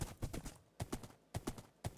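A horse's hooves clip-clop on a redstone-timed race track in the Minecraft video game, in quick rhythmic bursts of three or four hoof beats separated by short pauses, close and clear with no talking.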